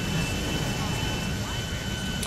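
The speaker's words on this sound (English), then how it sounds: "check this plane out. It's coming right at me." Jet airplane in GTA V passing close overhead, a broad steady roar filling the scene for a couple of seconds with a faint voice murmuring beneath it.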